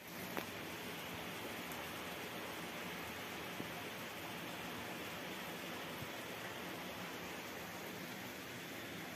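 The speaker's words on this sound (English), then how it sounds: "A powerful hailstorm swept across Rome late Wednesday afternoon, turning the city into a frozen battlefield" Hail pounds the streets of Rome during a powerful late-afternoon storm, a dense, steady, hissing roar of countless impacts with a few sharper clicks, with no voices over it.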